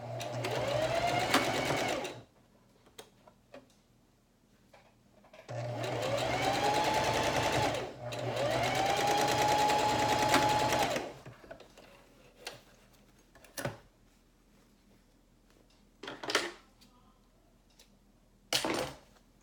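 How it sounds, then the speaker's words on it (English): Sewing machine stitching a makeup bag, three close runs of rapid whirring needle strokes, the first short and the next two longer, separated by quiet pauses with small clicks and handling knocks. "I'm going to go ahead and sew this one before I do the other one."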